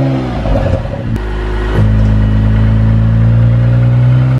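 Honda NSX supercar engine revving through its exhaust, a quick rise in pitch settling into a loud steady drone, close by with no voices.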